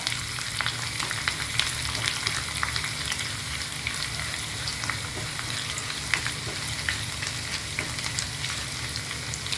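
Chopped ginger and green chillies fry in a pan with a continuous, even sizzle and crackle, close by and fairly quiet, with occasional soft stirring scrapes and no talking.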